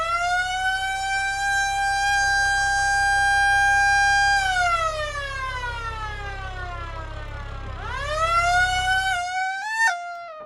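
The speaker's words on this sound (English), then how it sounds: "Now it does sound like a baby crying whenever I do turn on the sirens" Police car siren in the BeamNG.drive driving game, a long steady wail that bends downward and swoops back up, wavering like a crying baby, loud and close over a low engine hum.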